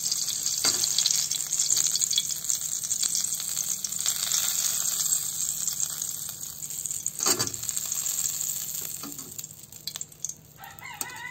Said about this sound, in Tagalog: Ayan, magprito tayo